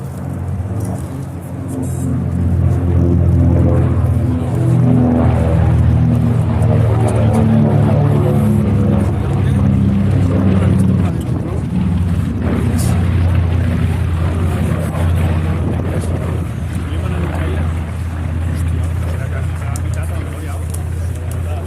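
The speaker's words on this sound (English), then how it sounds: "The engine note this time, that a pair of 1700 horsepower Wright twin cyclones with 14 cylinders each." Pair of 1700 horsepower Wright Twin Cyclone 14-cylinder radial engines on a North American B-25J Mitchell at an airshow, a loud, steady, throbbing drone sustained throughout with a narrator talking over it.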